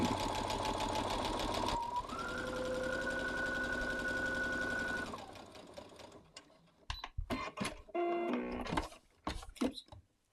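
A domestic sewing machine stitches down the right-hand seam of a beginner's pinwheel quilt block, a steady close whirring run for about three seconds before stopping, followed by fabric handling and small clatters.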